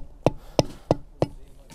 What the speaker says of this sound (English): Same again, hammer the spike halfway into the ground.